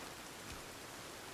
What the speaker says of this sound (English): This is one hell of a storm.